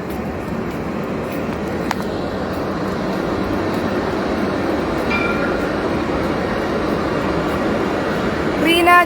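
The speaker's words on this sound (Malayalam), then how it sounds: "ഒരു മിനിറ്റ് ഒരു ട്രെയിൻ ഇപ്പൊ പോകും." A train passes nearby near the Lebanon border, a loud continuous rumble and rolling rail roar that builds slightly, with a sharp metallic squeal near the end.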